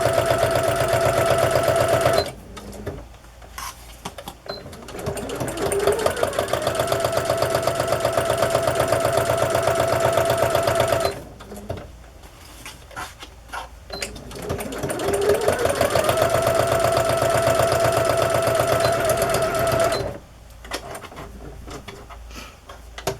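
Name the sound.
sewing machine stitching journal pockets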